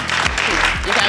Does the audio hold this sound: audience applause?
yes